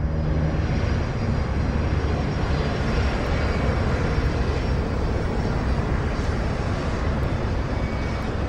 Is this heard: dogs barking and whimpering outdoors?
no